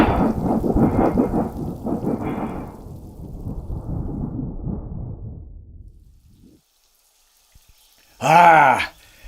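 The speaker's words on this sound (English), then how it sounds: "Ah, isn't that tropical rain rejuvenating?" Heavy tropical rain and rumbling thunder roll loud and broadband for about six seconds, then fade to near silence before a short, sharp groan-like burst near the end.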